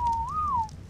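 A single short whistle in ARK commands a Dilophosaurus, one clean tone that swoops gently up and back down before stopping, close and clear over a low game hum.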